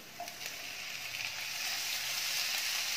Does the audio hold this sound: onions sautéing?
yes